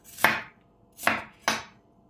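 Knife cutting a bell pepper on a cutting board, three crisp close chops spaced unevenly over about two seconds, quiet room, no speech.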